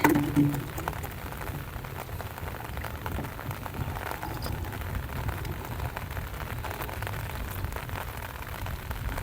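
Steady rain falls in a dense, even hiss with a low rumbling undertone over the Mekong River during a fishing trip, continuous throughout with no voices.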